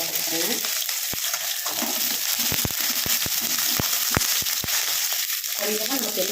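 Green and dried red chillies go into hot oil with chana dal and urad dal for lemon rice, giving a steady, close sizzle with sharp pops and crackles throughout.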